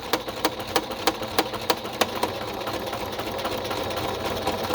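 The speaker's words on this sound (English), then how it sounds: "I can sew through that just fine. It's just fabric." A sewing machine stitches fabric for a ring-bound folder pocket cover, running steadily up close with a regular beat of stitch clicks and a motor hum underneath, and no voices.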